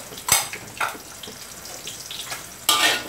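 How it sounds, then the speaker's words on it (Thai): Chili and shallots are dry-roasted in a pan on a gas stove, with scattered scraping stirs, light sizzling crackles and a few clanks from the pan, close and fairly loud. "เนี่ยครับขั่วพริกครับหอมแดงครับ"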